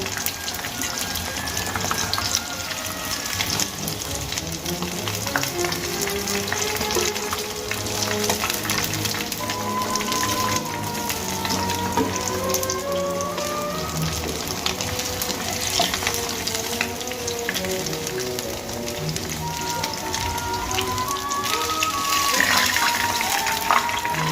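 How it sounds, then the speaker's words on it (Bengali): Pieces of rohu fish fry in hot oil, a loud continuous sizzle with spatters and occasional stirring and clinks, heard close and steady throughout with no talking. "এখানে আমি মাছগুলো লাল লাল করে ভেজে নিয়েছি।"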